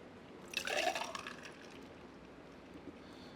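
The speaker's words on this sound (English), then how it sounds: "just pour it back" Liquid poured back into a container, a short splashy gush that quickly fades to faint trickling drips over quiet background noise.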